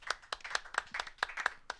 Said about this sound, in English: It's a round of applause.